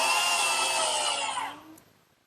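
A power drill pre-drills holes for hinge screws into a hard oak face frame, giving a steady high whine that runs about a second and a half before spinning down and stopping.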